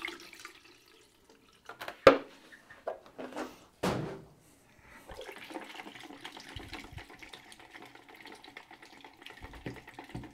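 Water rinse during home color film developing, starting with a few clunks and knocks of handling the equipment, then a soft, steady trickle of pouring or running water that continues to the end.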